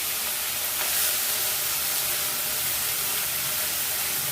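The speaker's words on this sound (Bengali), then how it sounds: "পেঁয়াজটা দিয়ে ভালো করে পেঁয়াজটা প্রথমে আমি একদম লালচে করে ভেজে নেব" Onions for chicken biryani frying in a pan produce a loud, dense, steady hiss of sizzling oil up close, with no talking.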